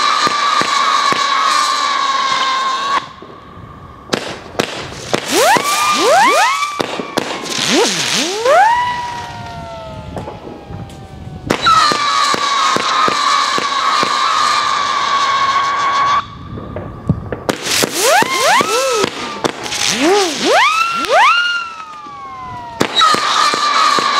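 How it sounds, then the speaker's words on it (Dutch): An Angry Wolf 39-shot firework cake with a hummer effect fires rapid bursts, its whistling hummers rising and sweeping in repeated waves between loud crackling salvos, with a crowd cheering and shouting throughout. "De Night Hoiler is een Angry Wolf, gewoon 39 shots hummer effect"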